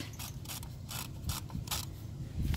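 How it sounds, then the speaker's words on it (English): RV wheel chocks wedged between tires being tightened with a twist-turn handle at a campsite, giving a series of close ratcheting clicks and mechanical creaks in short irregular bursts, fairly quiet and without speech. "And then you will apply the wheel chocks. Tighten that up"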